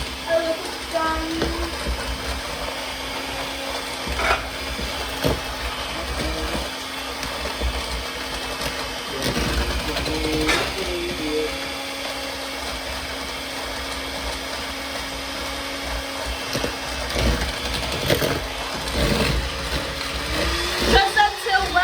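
Electric blender whirring through baking ingredients in a kitchen, a steady motor drone with an occasional rattle and bump, running continuously with faint voices now and then.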